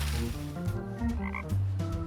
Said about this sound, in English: there is a frog hidden in here